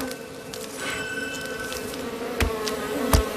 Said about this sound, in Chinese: 野蜂并不怕人